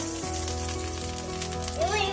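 Pancake batter sizzles steadily as it is spread across a hot pan, a continuous hiss running beneath sustained background tones.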